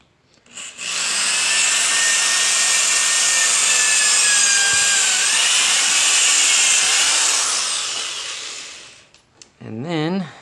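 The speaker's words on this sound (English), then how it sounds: "make our next drill hole right here" A power drill bores a hole into a formicarium for Pogonomyrmex barbatus harvester ants, a loud steady whine running about eight seconds before cutting off, followed by a brief spoken phrase.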